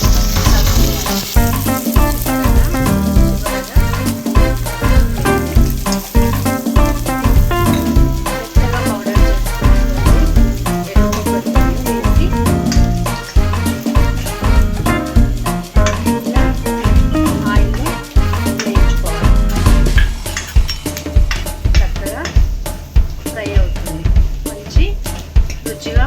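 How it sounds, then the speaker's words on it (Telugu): Ginger garlic paste and curry leaves frying in a pan while making chicken curry, a loud, continuous crackling sizzle with sharp spitting pops throughout, and a voice talking over it now and then. "అందులో అల్లం వెల్లుల్లి పేస్ట్ను వేయాలి. వేసి కరివేపాకు వేసి"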